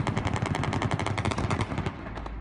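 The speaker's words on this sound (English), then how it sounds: "A hail of bullets from a helicopter." Rapid, continuous bursts of automatic gunfire from a helicopter during a coup attempt in Turkey, loud and sustained, a dense rattling volley with no talking.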